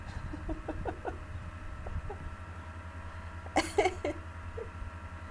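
Geese give a few short, honking calls over a low steady hum, scattered at first and then a louder cluster near the end, heard from a short distance.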